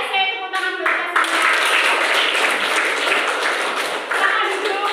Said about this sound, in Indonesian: IC tepuk tangan buat semua